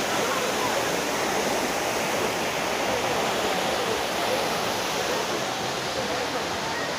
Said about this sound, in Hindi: पानी का झरना ऐसे गिर रहा हो, ऐसे वाटरफॉल हो